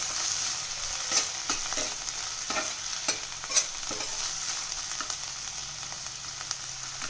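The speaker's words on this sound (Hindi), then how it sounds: "तो कढ़ाई में मैंने ऑयल डाल दिया है। अब हम इसमें हरी मिर्च डाल देंगे, प्याज डाल देंगे, इसे चला लेंगे इस तरीके से।" Green chillies and onion frying in hot oil in a kadhai are stirred with a spoon, giving a steady close sizzle broken by repeated scraping strokes, with no one speaking.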